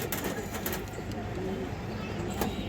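A pigeon coos in low, repeated throaty calls over a busy, noisy background.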